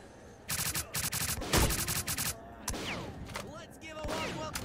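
Gunfire in S.T.A.L.K.E.R. Clear Sky: a loud burst of rapid automatic shots, a short pause, then a second sustained burst, followed by scattered single shots, clanks and debris against a busy game backdrop.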